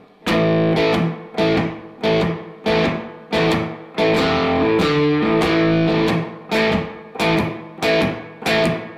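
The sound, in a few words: distorted electric guitar blues shuffle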